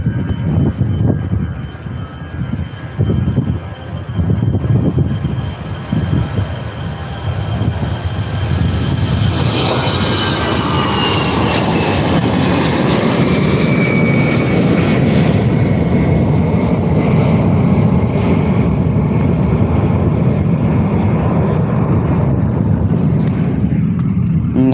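A Jet2 passenger jet arriving from Liverpool roars in to land at Faro Airport in Portugal's Algarve, building from a distant rumble to a loud, close engine roar that sweeps overhead and stays strong to the end, with no talking.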